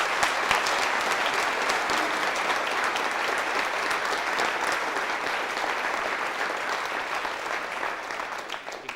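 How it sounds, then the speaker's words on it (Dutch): Dense, even audience applause in a hall during a local Horst revue evening, a continuous wash of many hands clapping that holds steady and only fades slightly at the close. "geef hen ook een applaus"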